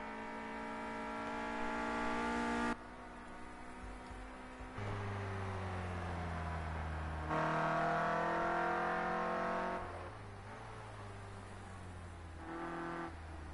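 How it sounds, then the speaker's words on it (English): Clio Cup race car lapping a circuit in a live race, its engine loud and close with repeated revving, gear changes and shifting pitch that swell and drop across the run. "You can hear the car unsettled as it got airborne."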